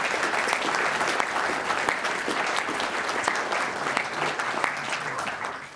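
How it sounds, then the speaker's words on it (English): Sustained audience applause at a professional engineering society talk welcoming a guest speaker, a dense, steady wash of many hands clapping that stays loud and even throughout. "A round of applause, please."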